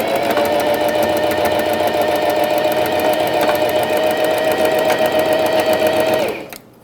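A sewing machine stitches a seam on a pet bandana in one fast, even run of rapid needle strokes, loud and close, then stops abruptly near the end.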